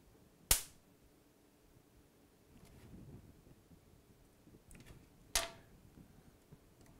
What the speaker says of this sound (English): You're going to get a bit of a bang, a bit of a spark, but that should be enough to actually fuse the 2 wires together.